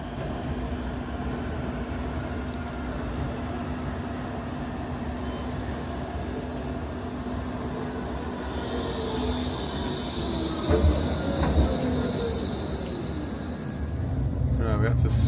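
Steady low rumble of a tram running toward Hucknall, with a rising whine and squeal near the end as it gathers speed; voices faintly present.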